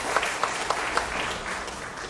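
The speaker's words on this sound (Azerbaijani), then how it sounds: "alqışlayaq" A studio audience on a talk show applauds, a dense steady wash of many hands clapping with a few sharper claps standing out, fairly loud and continuous throughout.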